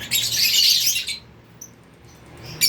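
A lutino opaline pet bird chirps in a bright, dense burst for about a second, then fainter isolated chirps follow against a quiet background.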